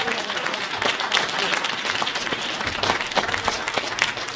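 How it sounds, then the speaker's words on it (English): An audience at a mayoral candidates forum applauds the group of candidates, a dense, moderately loud round of clapping from a room full of people, sustained for several seconds with faint voices mixed in. "Let's give them a good round of applause."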